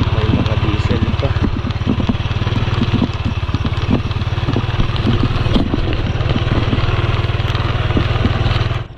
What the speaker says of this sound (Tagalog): Check natin yung mga makina kung tawag doon, may mga diesel pa.